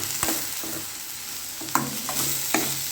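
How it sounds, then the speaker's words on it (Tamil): Tomatoes sautéing in a pan with salt for a drumstick and chana dal kurma curry, a soft steady sizzle broken by a few scraping stirs of the spoon, close and alone without voices. "தக்காளி நல்லா வதங்கட்டும்"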